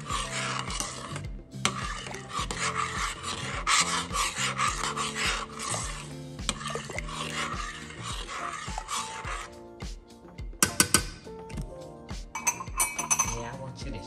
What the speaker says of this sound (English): you stirring it all the way to the bottom of the pan and just keep stirring it.